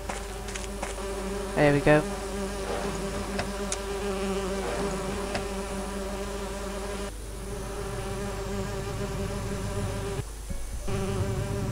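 Bees buzzing steadily around a hive in a video game, a dense continuous drone close by, with a few brief louder buzzes and a voice speaking briefly.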